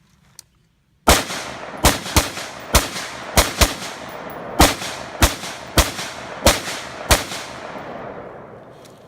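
An assault rifle fires at a target outdoors, with a lone faint pop followed by about a dozen loud, sharp shots in quick uneven bursts, each one trailing a short echo.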